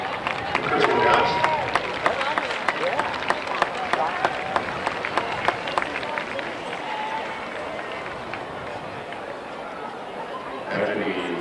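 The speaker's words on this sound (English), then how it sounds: "Give a round of applause" Crowd applause and cheering at a high school football game as Chris Woodhouse is recognized, a dense wash of clapping and chatter with sharp claps standing out, loud and steady before thinning toward the end.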